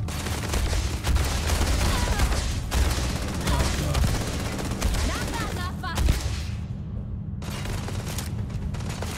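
Support gunfire rattles through a firefight in the Starfield video game, with dense overlapping volleys and bursts that run nearly continuously before easing into a lower rumble near the end.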